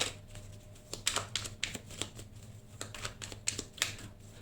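Oracle cards shuffled and drawn by hand, a quick run of crisp close riffling flicks and soft taps at an irregular pace, with no voices.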